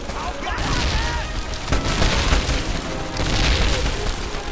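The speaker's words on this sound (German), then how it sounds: "da sollte ich mir meine Granaten ein bisschen ausprobieren" Explosions and gunfire from Medal of Honor Airborne combat, with grenades going off: heavy repeated booms and bursts fill the whole stretch at steady loudness, thick and continuous rather than spaced out.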